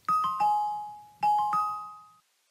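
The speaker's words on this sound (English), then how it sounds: "as you can hear from the test, you should hear a series of chime sounds" Speaker test chimes from a Dell XPS laptop ring out as two bright, descending three-note sequences, each note sustaining and decaying cleanly against silence.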